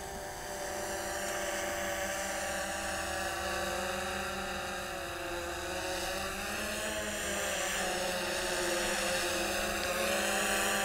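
A DJI Phantom 2 Vision quadcopter drone returns home and comes in to land, its rotors giving a steady, close, high-pitched buzzing whine with layered tones that hold for the whole stretch and swell slightly near the end, with no talk.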